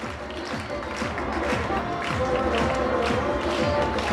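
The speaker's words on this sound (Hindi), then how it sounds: "एक बार जोरदार तालियां बजा के स्वागत करें।" At an alumni meet of JNV Laduna, Mandsaur, an audience claps to welcome the alumni association president, a moderate patter of hand claps mixed with crowd murmur and some cheering.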